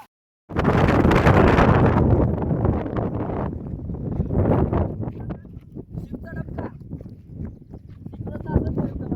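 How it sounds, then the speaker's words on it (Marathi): Strong wind gusts buffet the microphone near Bhivpuri waterfall, producing a loud, steady rumbling roar that eases slightly after the first few seconds. Faint outdoor activity sits beneath it. "मस्त हवा पण लागते."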